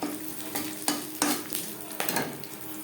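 Crushed whole garam masala and bay leaves fry in hot oil with a steady close sizzle, broken by a few sharp spoon strokes against the pan, with no voices.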